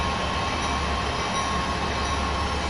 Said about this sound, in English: I'm driving the locomotives that runs cargo that you see on the in real life